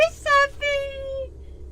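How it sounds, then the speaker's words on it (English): A cat lets out a sequence of meows just after being smacked in the face: two short cries and then a longer drawn-out one, close and clear. "I smacked my cat right in the face."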